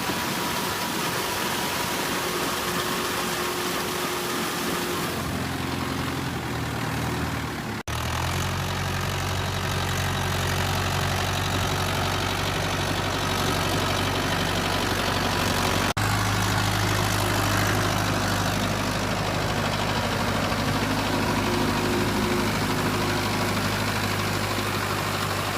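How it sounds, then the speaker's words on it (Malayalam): A power tiller engine ploughing a paddy field, a steady low chugging drone that runs without a break throughout, close by and fairly loud, with a slight shift in pitch partway through. "മുകേഷ് ഏട്ടനാണ് കേട്ടോ ട്രില്ലർ ഓടിച്ച് കണ്ടം പൂട്ടി തരുന്നത്"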